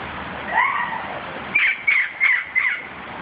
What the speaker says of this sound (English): They're awfully close to my corn. The parrots eat corn.